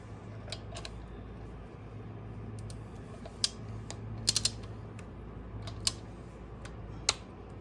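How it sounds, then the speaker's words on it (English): A Harley cam chain tensioner bolt is tightened to 15 with a torque wrench, giving a few sharp ratcheting clicks and metallic ticks over quiet workshop background. "And we'll tighten that down to 15."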